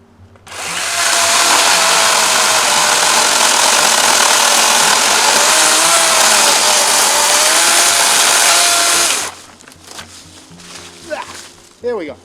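A DeWalt FlexVolt battery power tool cuts through material in one loud, sustained high-pitched whine of about eight seconds, close up. Afterward the tool winds down, followed by handling clatter and brief talking.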